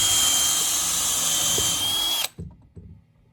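Power drill boring holes in an Adirondack chair kit, a loud steady high whine that stops abruptly after about two seconds, followed by a few soft knocks as the tool is set down.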